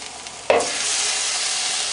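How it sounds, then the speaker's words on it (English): Chicken burgers turned over inside a Ninja Foodi dual heat air fry oven: a single sharp clatter and scrape, followed by a steady broadband hiss of hot air and sizzling that holds to the end. "I'm going to pause things and going to give them a flip at this point"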